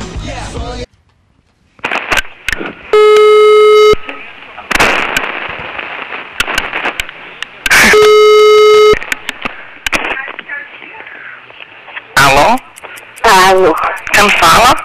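Telephone ringback tone on a call placed during a Brazilian TV game show segment, two steady beeping bursts separated by mixed studio noise and voices, with people talking around them.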